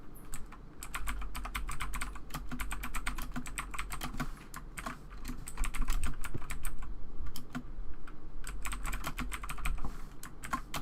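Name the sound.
typing on a mechanical keyboard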